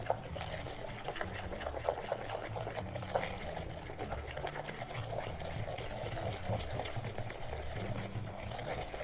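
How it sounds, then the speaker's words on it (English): Whisking cake batter of butter and sugar in a bowl for a pineapple upside-down cake, a busy continuous scraping and rattling that goes on throughout, fairly quiet and close. "You're going to whisk it well again."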